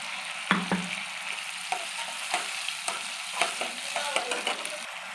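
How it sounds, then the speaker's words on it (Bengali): Ginger and green chili paste hits hot oil with asafoetida in a pan, giving a close, crackling sizzle broken by repeated scraping stirs and light clinks of a spoon at an uneven rhythm. "এবার আদা কাঁচা লঙ্কা বাটাটা দিয়ে দিলাম।"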